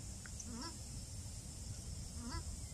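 Two short chirping bird calls, each a quick rising-and-falling trill, sound over steady outdoor background noise about two seconds apart.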